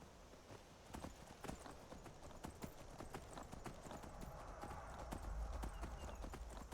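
Horse hooves clip-clop at a steady, rhythmic pace in the Skyrim video game, with sharp repeated hoof strikes close by and faint ambient game sound underneath.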